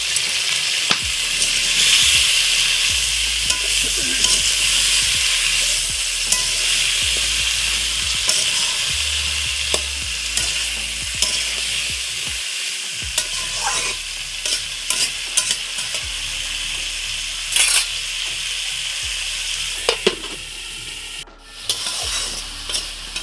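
Spinach stalks sizzle and fry in a pan with salt and turmeric while being stirred, a continuous loud crackle broken by scraping utensil strokes and occasional clinks.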